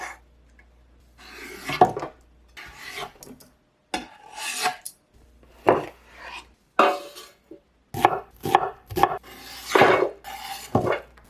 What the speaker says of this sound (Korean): 토마토는 4등분으로 자르세요.